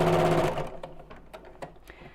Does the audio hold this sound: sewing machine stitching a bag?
yes